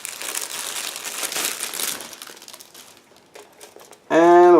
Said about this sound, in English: Next we have one plastic bag with several plastic sprues inside, so I need a second to open it.